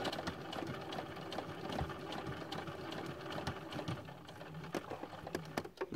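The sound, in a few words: sewing machine stitching jersey fabric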